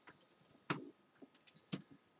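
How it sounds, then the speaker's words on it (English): Keys on a computer keyboard are tapped in a quick irregular run, light close clicks with a few sharper, louder presses standing out, quiet overall during a digital drawing session. "I'm going to click B on the keyboard so we get the brush."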